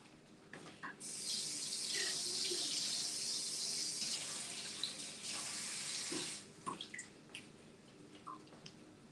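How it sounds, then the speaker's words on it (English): Kitchen tap running steadily over lettuce leaves in a sink for several seconds, a close, broad water rush that stops abruptly, followed by a few faint drips and light handling noises. "I'm going to go rinse these off"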